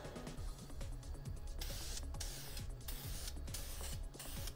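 Spray paint going onto Boba Fett armor parts, with repeated hissing bursts of varying length and a steady rattling, clattering background throughout.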